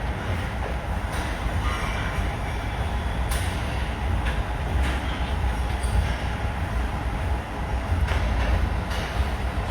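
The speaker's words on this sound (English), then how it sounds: "So you can hear the pistons of the machinery." Production line machinery with pistons inside a slaughterhouse makes a continuous heavy, rumbling mechanical din, steady and loud, with faint clanks and clicks scattered through it.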